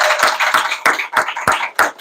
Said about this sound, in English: I think we should give our heroes a big round of applause